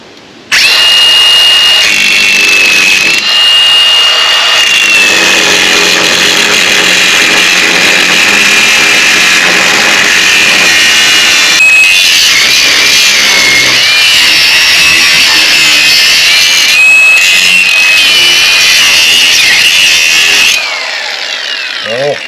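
A power tool grinds and cuts a V notch into a trailer frame during straightening and welding work, a loud, sustained whining buzz running nearly twenty seconds with brief dips in pitch as the blade bites, then stopping abruptly.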